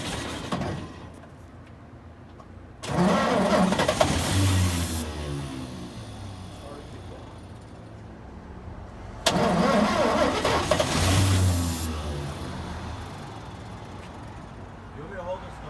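A 1941 Chevy truck found in a junkyard cranks and catches twice, each start swelling into a loud, close rev before dropping back to a rough idle, while people talk over it.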